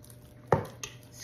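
A spatula scrapes and taps a bowl of cream cheese frosting, one distinct knock followed by a lighter tap and faint scraping, close and quiet.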